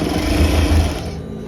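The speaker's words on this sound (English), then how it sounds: "and you go ahead and sew it." Sewing machine stitching fabric for palazzo pants, a steady close mechanical whir and rapid needle chatter running continuously without talk.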